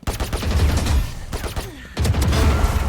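Vandal rifle fire in Valorant, dense bursts of rapid gunshots close up, pausing briefly near the middle before a fresh volley resumes, with no talking over it.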